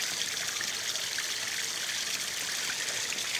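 Steady rush of water flowing through a pond filter with a UV sterilizer during back-flushing, a constant hissing trickle close by with no other sounds.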